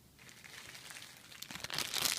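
A crinkly plastic bag of scented candle wax melts being handled up close, with faint, irregular crackling and crumpling that grows busier and louder toward the end.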